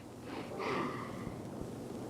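Someone sniffs flowers in a quiet outdoor scene, one drawn-out nasal inhale with a soft snort rising and fading near the microphone, alone without talk.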